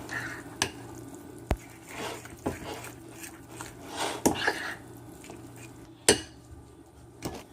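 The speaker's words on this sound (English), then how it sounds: "you want to mix this together until it is nice and thick" A spoon scrapes and clinks against a bowl while yeast is stirred into breadstick dough, soft repeated taps and a few sharper knocks over a low steady hum, fairly quiet.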